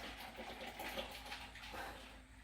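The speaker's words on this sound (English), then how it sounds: "I'm pouring a lot" Milk pours into a plastic blender bottle in a steady, close splashing stream that runs unbroken for a couple of seconds before easing slightly at the end.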